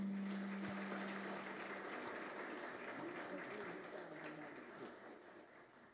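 Audience applause fills a ceremony installing a new director general of Haiti's civil protection, a steady broadband clatter of many hands that starts loud and slowly thins toward the end, with a low hum at the start.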